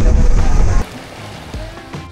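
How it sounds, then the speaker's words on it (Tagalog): Waves slapping against the hull of a fast boat heading to the Balabac islands off Palawan, with a loud, dense rush for the first second, then a quieter hiss of water and spray. "Ito na pala yung alon."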